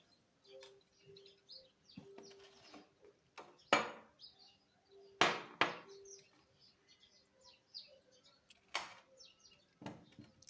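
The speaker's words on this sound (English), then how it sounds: "I'm just going in to cut the bigger pieces" Knife chopping cucumber into pieces for a cucumber glycerite extract, giving sparse, irregular sharp taps of the blade against the board, with small clicks and quiet gaps between the louder cuts.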